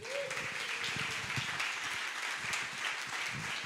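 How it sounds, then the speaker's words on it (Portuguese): A church congregation claps steadily after a sermon, a dense, even patter of many hands held at a moderate, slightly distant level for the whole stretch. "Então dá uma salva de palmas para ele."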